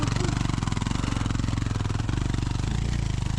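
An off-road motorcycle on a mountain expedition trail in northern Vietnam revs hard on the throttle, its engine pulsing in a steady, loud, close chugging rhythm that holds throughout without a break.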